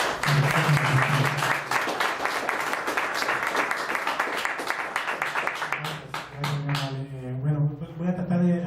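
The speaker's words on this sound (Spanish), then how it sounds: "voy a pedir un aplauso para nuestro conferencista" Audience applause for a lecturer after a talk on the geodiversity of La Primavera forest, dense steady clapping from a room of listeners that thins out toward the end as a voice begins speaking.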